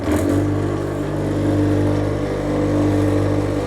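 A heavy machine, started with a black start button, hums at a steady high rev after spinning up, a loud continuous low drone with strong tonal whine, close and unbroken with no talk.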